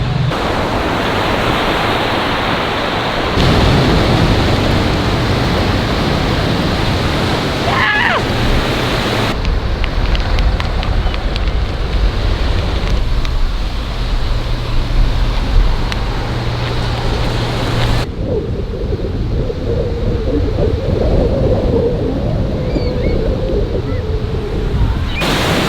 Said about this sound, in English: Off to the beach.